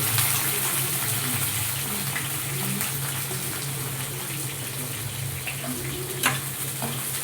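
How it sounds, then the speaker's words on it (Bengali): Sliced onions sizzle steadily in oil in a kadai, a soft continuous hiss with a few light clinks and scrapes of a utensil. "কেটে রাখা পেঁয়াজটা ভেজে নেব একটু"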